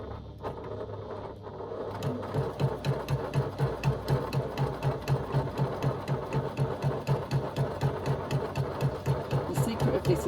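A sewing machine stitches down a fabric pleat fold with a steady, rapid mechanical rhythm that starts after a brief pause and runs continuously, close and moderately loud.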